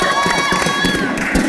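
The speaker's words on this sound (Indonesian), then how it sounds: "tapi tepuk tangan untuk Cinta Laura" A studio audience cheers and shouts loudly for Cinta Laura on an Indonesian show, a dense, continuous crowd roar with no talk over it.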